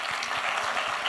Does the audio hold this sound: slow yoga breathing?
no